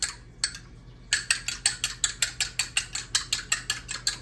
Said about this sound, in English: we kind of mix this egg up